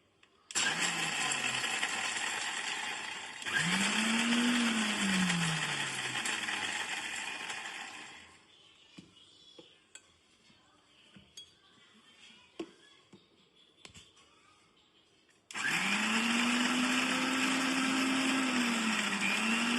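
A mixer grinder runs loud and steady, coarsely grinding roasted peanuts into a chunky powder, then stops for several seconds of small clatters before starting again with a rising whine.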